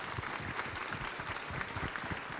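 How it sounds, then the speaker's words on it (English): An audience at an international IP enforcement summit claps for the speakers, a steady, dense round of applause from a sizeable hall throughout, with no talking over it. "A big round of applause for all of our speakers."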